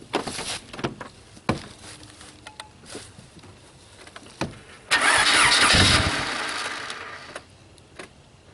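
A car engine cranks on power from a Noco GB70 portable jump starter: uneven starter whirring and clicks, then a louder burst of cranking that falls away without a clean catch, close by.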